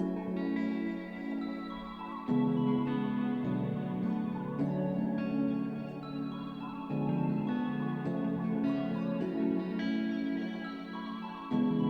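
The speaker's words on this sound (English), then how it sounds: "all my melodies with the vocal chops, chords, guitar, everything in sounds like this" A bouncy R&B beat plays with vocal chops, chords and guitar layered over a deep, pulsing low end, with the sections shifting every few seconds, full and steady, with no talking.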